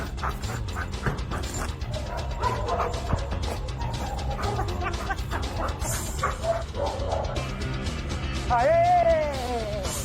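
A dog barks in a restaurant kitchen amid clattering, mechanical background noise and faint voices, with the barks fairly close and mixed into the busy din.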